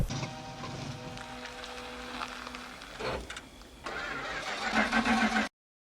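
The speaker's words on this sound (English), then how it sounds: "and on the way home, his car breaks down." A car engine cranks and turns over, failing to start, with a steady mechanical drone that drops out and then surges back louder before cutting off abruptly.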